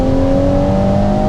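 A Ferrari Purosangue's engine holds a loud, steady rising tone as the driver revs it, a smooth sustained drone with no talking over it.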